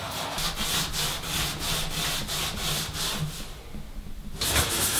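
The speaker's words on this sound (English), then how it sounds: "I'm just using it to actually scrape all this silicone caulking off." A razor blade scrapes silicone caulking off a bathtub in quick, rhythmic close-up strokes, about a dozen rasping passes, then a short pause before scraping resumes.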